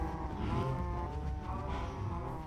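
A Minecraft cow lets out a continuous low, drawn-out moo that fills the whole moment, loud and close, with no talking over it.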